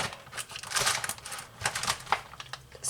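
Knife dicing potatoes on a cutting board for corned beef hash, a string of quick, irregular clicking chops and crisp scraping taps, close and fairly quiet with no talking.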